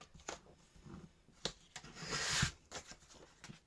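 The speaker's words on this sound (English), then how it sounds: "I'm just going to use my little trimmer for this because this card is obviously small" Small paper trimmer cutting a small piece of card, a quiet close slide and rasp of the blade with a few light taps and clicks around it.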